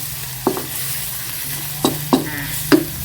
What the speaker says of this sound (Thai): เราไม่ต้องผัดนานค่ะเพราะว่าหอยเขาสุกอยู่แล้ว